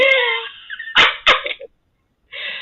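A dog barks and yips, with a few sharp close barks and whining tones in short bursts, separated by brief silences.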